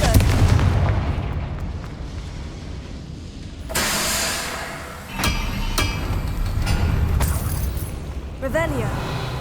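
Confringo fire spell blasts in the Hogwarts Legacy game, booming explosive bursts with sharp cracks amid ongoing combat noise, a voice speaking over the action.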